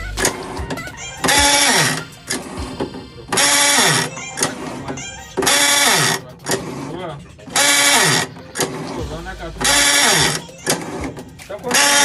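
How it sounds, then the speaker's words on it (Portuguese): An Electrolux washing machine agitates with a scraping, grinding noise from a faulty gearbox cover and ratchet, loud rhythmic bursts roughly every second and a half alternating with quieter gaps, while someone talks throughout. "Então normalmente esse defeito aí, ó, de catraca raspando"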